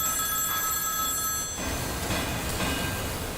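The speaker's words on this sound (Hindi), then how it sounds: "सर मेन ऑफिस से फोन है सर।" Office telephone ringing with a steady electronic trill, fairly loud and continuous, with no talking over it.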